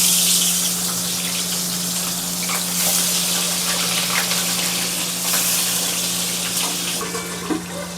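Tangra fish frying in mustard oil in a wok, giving a steady, loud, continuous sizzling hiss with a low background hum and no voices.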